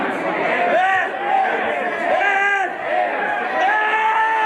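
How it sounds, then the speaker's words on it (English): A wrestling crowd at a CHIKARA show chants in rhythmic, repeated swells, loud and close, filling the hall throughout. "as you hear the crowd starting to chant "ant" at him"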